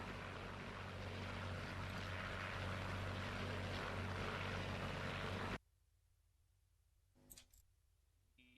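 A P-39 Airacobra in Second Life throttles up for a long takeoff, its propeller engine a loud, steady broadband roar that cuts off abruptly partway through, leaving near quiet with a brief thump.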